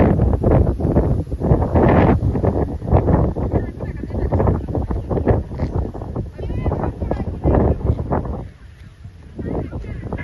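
Strong wind buffets the microphone in loud, rumbling gusts throughout at the Chocolate Hills, Bohol, with a voice talking underneath.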